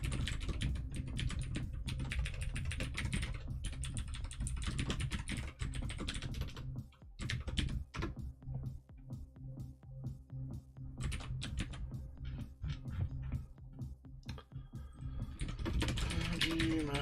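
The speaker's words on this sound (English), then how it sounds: "I can type this, it's fine." Steady, fast typing on a computer keyboard while writing C code, dense clattering keystrokes with brief pauses and bursts, close and fairly loud, with no talking over it.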